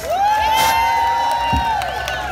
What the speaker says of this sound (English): a big round of